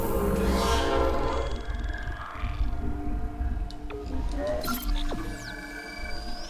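Rumbling train ambience from the Dead Space game, a heavy low mechanical drone with metallic groans, tonal horn-like wails and sharp screeching sweeps, fairly loud and continuous with some voice mixed in.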